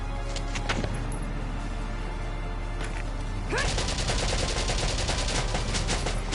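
Squad gunfire erupts in Valkyria Chronicles on PS4, a few sharp shots early followed by a sustained, rapid burst of automatic fire over steady game background noise, close and fairly loud.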